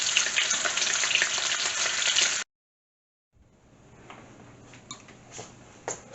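Salmon sautéing in a pan gives a bright, loud sizzle that cuts out abruptly, then returns quieter with a few sharp clicks and pops.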